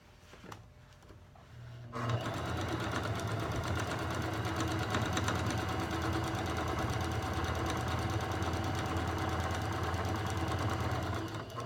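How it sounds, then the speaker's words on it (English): A sewing machine stitching a row along an elastic waistband: after a brief quiet start, a loud, close, steady mechanical whir with rapid needle rhythm continues without a break to the end. "I'm super happy to be sewing this next row right in between"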